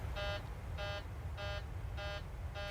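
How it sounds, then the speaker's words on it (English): A cockpit warning alarm in a flight simulator game sounds in repeated, evenly spaced electronic beeps, about five short tones over a steady low background hum, loud and alone with no talking. "ignore the stupid alarm"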